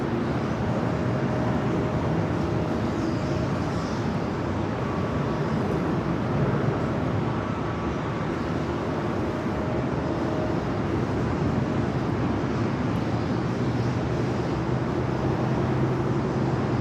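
Continuous broadband jet roar from an airliner taking off on runway 24 left at LAX, steady and fairly loud, heard from a distance with no talk over it.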